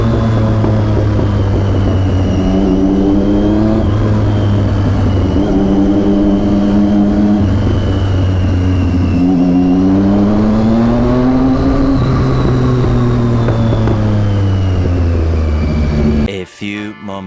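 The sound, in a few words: superbike engine revving with exhaust pops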